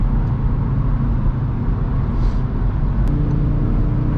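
Audi RS3 with a loud engine and exhaust, heard from inside while driving as a steady, dense low drone with constant road and engine rumble and no talking.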